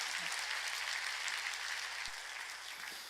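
A congregation claps during a sermon: a steady, fairly faint wash of many hands clapping together, continuous for about three seconds with no voices over it.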